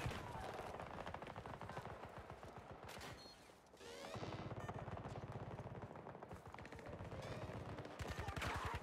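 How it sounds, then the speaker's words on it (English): Rapid bursts of turret gunfire in the shooter game Battlefield 2042, dense repeated shots that briefly drop off mid-way and then resume loud and continuous. "Somebody set up a turret in there."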